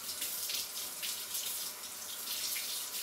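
Kitchen tap water running steadily onto cotton cake-pan strips in a sink, a continuous close splashing hiss with no pauses.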